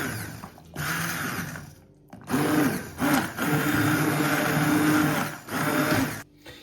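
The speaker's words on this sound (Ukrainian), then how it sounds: "будемо перебивати це все блендером" Immersion blender pureeing pumpkin cream soup in a pot, a loud whirring motor running in several long bursts with brief pauses between them.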